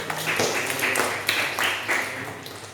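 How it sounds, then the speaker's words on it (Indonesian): A class claps hands together in a classroom, a steady run of dense, overlapping claps at moderate loudness lasting a few seconds with faint voices mixed in. "Tepuk tangan lagi"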